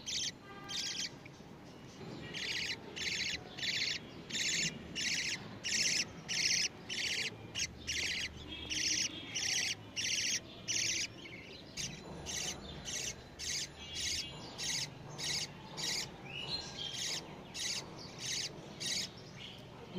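Pet budgerigars in a home breeding setup chatter and squawk in rapid, repeated bursts, loud and close, forming a steady rhythmic run of sharp calls over quiet background hum with no talking.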